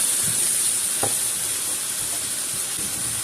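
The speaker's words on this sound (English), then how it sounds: "I just put enough in there to keep it sizzling, to keep it moist." Soft, steady sizzling from a pan of beef enchilada filling, fairly quiet and continuous, with a faint high hiss and a few small knocks.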